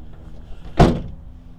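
A section of the MultiPro tailgate on a 2019 GMC Sierra 1500 is pulled up, giving a single close, sharp mechanical clunk followed by a quick fade to quiet.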